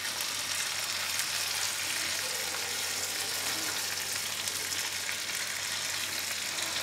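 Tandoori chicken pieces fry in a pan over a medium gas flame, cooked restaurant-style without a tandoor; a steady, even sizzle and crackle of oil runs throughout with no voices.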